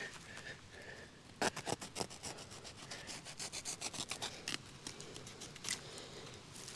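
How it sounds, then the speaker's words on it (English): Scissors or a blade cutting landscape fabric laid under gravel outdoors, heard as a run of close, sharp snipping and rasping strokes in uneven bursts over a low scratchy background. "So I'm gonna cut this fabric out of here."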